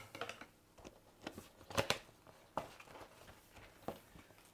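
Small scissors snip through craft packaging at close range, a handful of quiet, sharp cuts spaced irregularly among soft rustling and handling noises.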